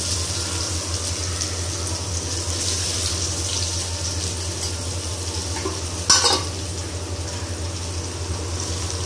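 Chopped onion sautéing in a pan with cumin and urad dal for a bottle gourd side dish, a steady close sizzle with a brief stirring scrape partway through, no talking.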